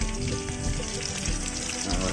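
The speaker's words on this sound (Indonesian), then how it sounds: "Nah, goreng burung." Bird meat frying in a pan, a dense continuous sizzle and crackle heard up close and fairly quiet, steady throughout without speech.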